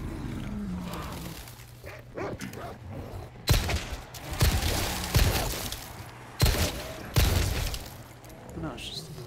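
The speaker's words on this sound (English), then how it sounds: "No, it's just a place where there's a random dog." A dog barks in the Resident Evil 4 video game, several loud, harsh bursts spaced a second or two apart over a murky ambient rumble and other game noise.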